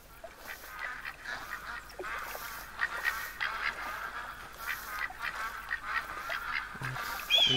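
Ducks in the hunting game theHunter: Call of the Wild quack and call repeatedly in a steady, overlapping chorus at moderate distance, with no voices.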